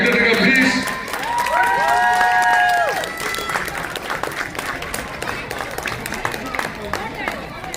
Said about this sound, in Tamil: ஒரு பலத்த கைத்தட்டல் கொடுக்கலாம்.